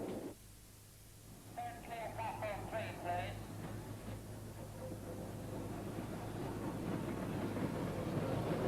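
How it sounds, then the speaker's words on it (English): The steam locomotive Clan Line rumbles past hauling a rail tour on the Southern Region in 1967, a steady rushing roar that swells gradually, heard at moderate distance on an old, slightly hissy recording. "Clan Line passes on the 2nd train."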